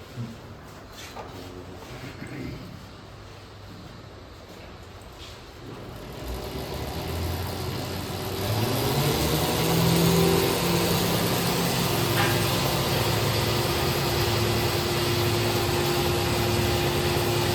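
An electric vehicle runs on a test rig: a low hum and faint whine swell from about six seconds into a louder, steady mechanical drone with a sustained tonal note, close by and without speech.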